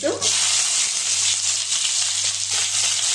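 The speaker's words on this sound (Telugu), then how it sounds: "ఆనియన్స్ వేసేసుకున్నాం బాగా వేయించుకోవాలి" Onions fry steadily in a pan with oil and mustard seeds, a dense, loud, continuous sizzle that holds at an even level throughout.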